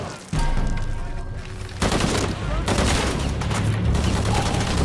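Dense bursts of rapid gunfire fill a Shadow of the Tomb Raider firefight, with loud sustained volleys that break off briefly and then resume, and a voice heard faintly beneath the shots.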